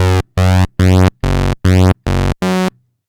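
Seven short, bright Hydrasynth pad notes with random oscillator phase pulse in a steady rhythm with brief silences between, each with a slightly shifting, phasey timbre.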